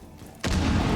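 A charge detonates in the tactical shooter Rainbow Six Siege, breaching hatches: after a quiet moment a sudden loud boom erupts and then rumbles on heavily.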